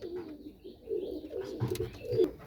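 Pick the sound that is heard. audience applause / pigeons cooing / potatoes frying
pigeons cooing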